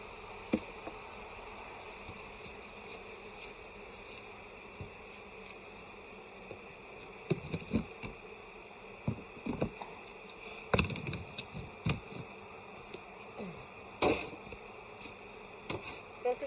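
Bees buzzing around a beehive during fall management in a subarctic apiary, a faint continuous hum with individual insects zipping close by in short louder passes, more frequent toward the end.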